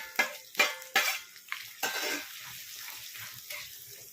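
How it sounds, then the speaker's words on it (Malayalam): Grated coconut roasts in ghee in a pan. A few sharp spatula scrapes and clanks come in a quick run, then settle into a soft, continuous, close-up sizzle. "ഈ നെയ്യിലേക്ക് ബാക്കിയുള്ള തേങ്ങയും കൂടെ ഇട്ട് മൂപ്പിച്ച് എടുക്കാം"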